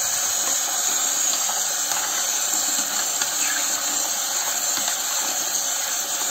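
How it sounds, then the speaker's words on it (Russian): Water pours steadily from a tap onto pasta, a constant hissing rush without pauses or talk. "Снова наливаем воды."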